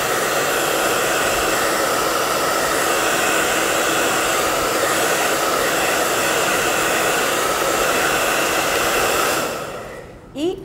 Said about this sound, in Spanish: Este es el aliado que tengo siempre, que es mi secador de pelo.